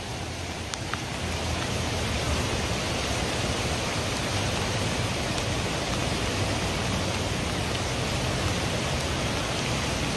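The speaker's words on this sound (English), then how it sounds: "This is like class 4 rapids here." A swollen creek in Santa Rosa, California, roars as raging rapids after heavy rain, a dense, steady, broadband rush of water heard close and unbroken throughout.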